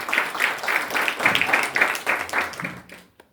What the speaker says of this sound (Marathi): सर्वांनी टाळ्यांचा गजर करावा.